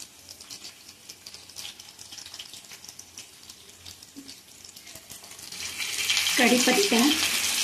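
Chopped onion drops into a hot pan of oil for masoor dal with potato amti. A quiet kitchen background gives way to a loud, steady sizzle that swells over the last two seconds.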